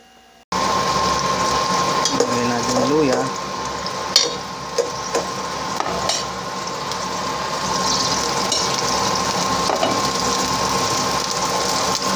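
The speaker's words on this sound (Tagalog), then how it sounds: "So halo-haloin natin para hindi masyadong matunog." A pot of miso sinigang with salmon belly is stirred while it cooks. A loud, continuous sizzling hiss runs throughout, with a few light utensil clinks and scrapes and no talking.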